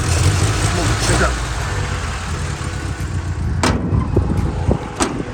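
A 1963 Volvo Amazon wagon engine idles a little low, a steady close rumble with people talking over it and a few brief clicks.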